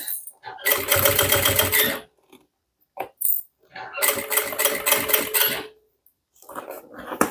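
A sewing machine stitches a handbag with an attached decorative trim, running in two long bursts of rapid, steady needle chatter separated by a pause and a few short clicks, close and fairly loud.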